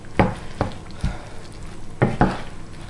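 Rice and vegetables are stirred through sauce in a tall frying pan, giving five distinct scraping clacks of a utensil against the pan at an uneven pace over a quiet sizzle, with no talking.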